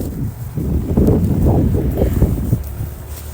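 On a windy day outdoors, gusts buffet the microphone while a DJI Mini 3 Pro drone is being flown, producing a loud, uneven low rumble that swells and eases for a few seconds with no speech.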